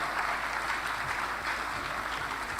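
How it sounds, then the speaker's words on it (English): Faint, steady clapping from an audience at a medical graduands' induction ceremony, applauding the provost, a soft continuous patter lasting under three seconds, with a brief loud bump at the very end. "Please clap for the provost."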